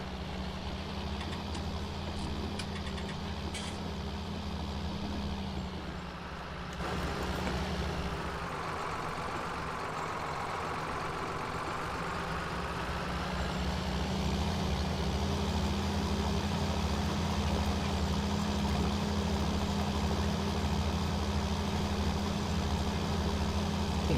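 A John Deere tractor engine in Farming Simulator 19 idles with a low, constant drone, shifting slightly in pitch partway through as the revs change, with no voices over it.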